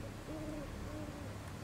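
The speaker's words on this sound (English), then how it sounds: "I heard a bird. I heard a fucking owl." An owl hoots twice inside a video game set in Pineview Forest: soft, wavering calls at moderate distance over a steady ambient hum, with no talking.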